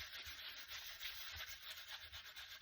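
Steady, soft rubbing of a cloth buffing up heat embossing on a layered Joseph's coat craft piece, a continuous scratchy friction with gentle pulses of pressure, close but quiet and with no voices.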